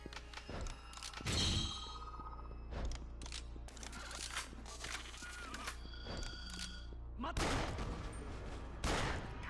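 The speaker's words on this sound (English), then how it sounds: "we're gonna keep shooting zombies that are, like, on the way" Bursts of gunfire from zombie shooting in the Yakuza Dead Souls video game, several sharp volleys spread across the clip over a steady low game hum, with a few quieter impacts between the louder salvos.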